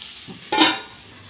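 A single quick scrape of a spoon through capsicum and potato curry in a pan, close and brief, over a faint background hiss.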